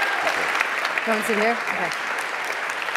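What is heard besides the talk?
audience applause for a guest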